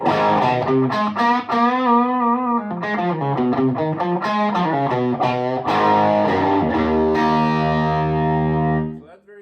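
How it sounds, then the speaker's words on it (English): An electric guitar played through a TopHat Rialto Reverb 1x12 combo amp driven hard into power tube distortion, ringing out loud, sustained notes and chords with a gritty, saturated edge and reverb, ending in a fading held chord. "Up at the very top end, driving it hard, and that's really all about power tube distortion, not about the front end."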